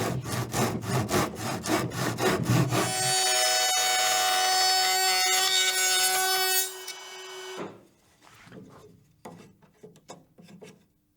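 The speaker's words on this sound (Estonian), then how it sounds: "saeb tapisaega ristlõike" A tenon saw cuts across wood during the restoration of wooden veranda windows: rapid rhythmic rasping strokes, then a steady ringing tone from the saw blade, and finally a few sparse scraping strokes, all close and loud.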